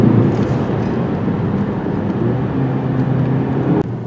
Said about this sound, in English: I just put it in the sport mode, and the transmission shifting in lower gear is even quicker